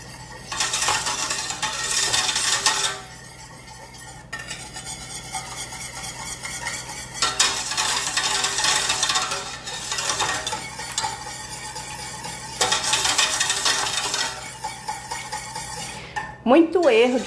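A spoon stirs a volcano cake topping of banana and dulce de leche in a pan, making repeated scraping and clinking bursts in three long rounds, separated by short pauses, close and fairly loud with no talking.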